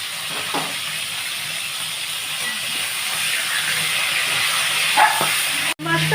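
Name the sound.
fish frying in oil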